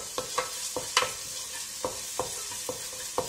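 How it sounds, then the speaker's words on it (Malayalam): Crushed ginger, green chilli and garlic sauté over a low flame in a pan, giving a soft, steady sizzle broken by repeated sharp spatula scrapes and stirs, with no talking. "ഇതിന്റെ റോ സ്മെല്ല് മാറി വരുന്നത് വരെ ഒന്ന് സോട്ട് ചെയ്തെടുക്കുക"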